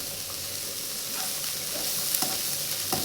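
Vegetables stir-fried with soy sauce in a pan for leftover pulao fried rice, a steady close sizzle broken by soft scraping and stirring strokes, with no talk.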